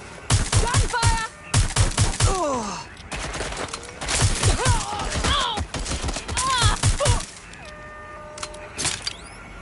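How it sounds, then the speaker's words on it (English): Gunfire in the video game Watch Dogs, rapid bursts of shots in dense volleys with shouting voices over them, near and loud, tapering off toward the end. "Gunfire!"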